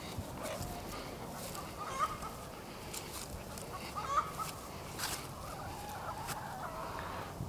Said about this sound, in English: Good morning, chicky chicks.